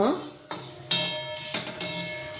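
Ingredients for ridge gourd chutney fry in a pan with steady sizzling, broken by a few louder stirring scrapes and shifts as the mixture is moved around.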